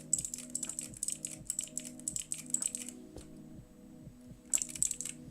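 Fingers type in quick bursts on a mechanical keyboard with Pokeball keycaps, crisp clacking keystrokes near and clear, pausing briefly before another short flurry.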